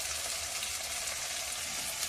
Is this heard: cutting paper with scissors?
no